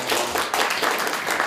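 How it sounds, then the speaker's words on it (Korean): Audience clapping breaks out in a Korean political speech hall, a dense, steady burst of many hands, fairly close and loud, with no talking over it. "발언하실 때마다 박수를 주고 하십니다"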